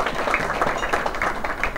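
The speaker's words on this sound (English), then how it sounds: "Give Dee Dee Barrett a round of applause as well for everything she has done." Crowd applause rises for Dee Dee Barrett at an evening awards event, a dense, steady wash of many hands clapping close and fairly loud throughout.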